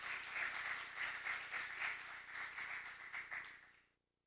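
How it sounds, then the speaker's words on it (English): An audience at an academic research day applauding to welcome a professor opening a scientific session, brisk, fairly distant clapping in a hall that stays steady for a few seconds, then cuts off abruptly. "let's welcome Professor Dr. Manoj Humagai with a round of applause for the opening of the scientific session"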